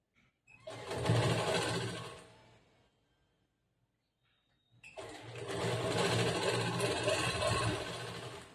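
A sewing machine stitches blouse fabric half an inch from the edge in two bursts. The first runs about two seconds and the second runs steadily for about three and a half seconds after a quiet pause.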